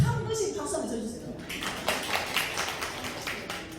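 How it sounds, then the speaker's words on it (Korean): A seminar audience claps in a scattered, patchy way that starts partway through. The clapping stays fairly quiet under a speaker who keeps talking throughout. "한 분씩 박수 한번 쳐주세요"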